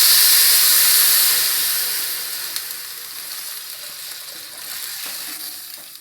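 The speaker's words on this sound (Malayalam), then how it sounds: "സാൾട്ട് ഇട്ടതിന് ശേഷം നമ്മളിവിടെ വെച്ചിരിക്കുന്ന 4 കപ്പ് വെള്ളം ഒഴിച്ചു കൊടുക്കാം." Four cups of water hit a hot pot of mixed vegetable soup after salting, giving a loud steamy sizzle and hiss that is strongest at first and then slowly dies down.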